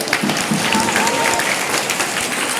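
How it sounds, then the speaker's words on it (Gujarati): An audience at a girls' education festival at a school breaks into steady, close, sustained clapping that fills the whole stretch, with faint crowd murmur mixed in. "એમના માટે એક એકવાર તાળીઓ વગાડે"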